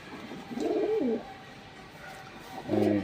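A male silver pigeon coos in two soft, rolling bursts separated by a short pause, close by and fairly quiet over a low background hum.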